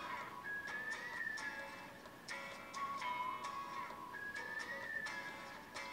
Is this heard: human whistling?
yes